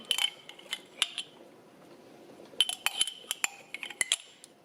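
A metal spoon clinks and scrapes against a pot while yogurt is stirred at home, a run of light irregular taps, then a quieter stretch, then a busier cluster of clinks, close and fairly faint.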